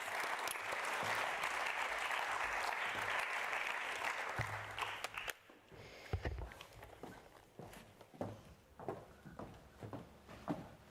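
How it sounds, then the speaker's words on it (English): A conference audience on energy digitalisation gives a round of applause for speakers joining online. Dense, loud clapping runs steadily for about five seconds, then breaks off abruptly into scattered thumps, shuffles and a few faint late claps in a quieter room. "please give them a round of applause"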